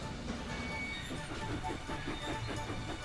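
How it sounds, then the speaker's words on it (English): Cartoon steam engine Thomas puffing hard along the track toward Knapford, a steady rhythmic chugging with rail clatter running continuously and fairly loud throughout. "He huffed and puffed as fast as his pistons could pump towards Knapford."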